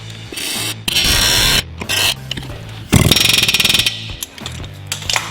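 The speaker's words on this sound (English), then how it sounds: "This is called an air hammer." An air hammer pounds on a Nissan Juke front wheel hub in loud, rapid bursts of metallic hammering, starting and stopping several times with short pauses in between.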